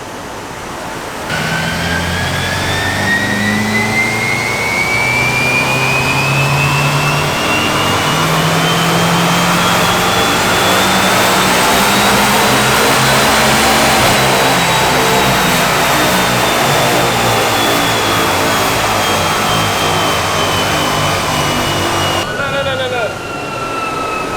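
MK1 VW Golf with a 1.8T engine, freshly built and barely driven, screams on a dyno run, its pitch climbing steadily through the revs before dropping off, loud and sustained with a roaring exhaust drone underneath.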